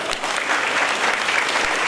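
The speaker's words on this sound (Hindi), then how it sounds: "प्रकाश जोशी जी, और तालियों से जोरदार स्वागत" A crowd at a religious discourse gathering gives a guest a warm welcome with brief, dense applause heard on its own.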